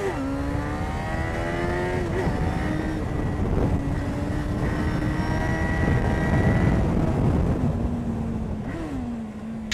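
A car engine accelerating hard while climbing the Col de l'Espigoulier mountain pass, a loud continuous roar with rising and dipping pitch as gears and throttle change, alone without talk.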